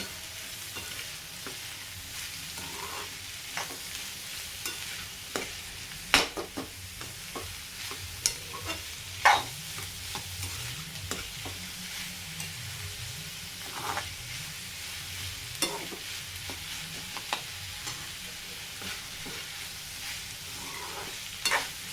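Chopped capsicum frying in a pan, with a steady soft sizzle throughout and irregular scraping clicks of stirring, close and fairly quiet, with no talking.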